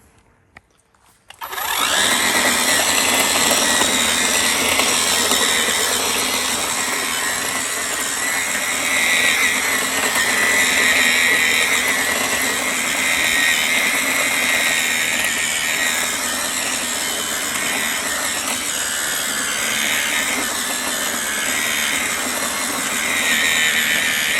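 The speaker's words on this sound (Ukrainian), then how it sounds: "І мені самі цікаво, як впорається з ним цей культиватор." FOX LandRipper 250 cordless cultivator with a 5Ah battery tilling hard, never-worked soil, starting after a brief pause and then running loud and steady with a whirring motor whine and gritty churning for over twenty seconds.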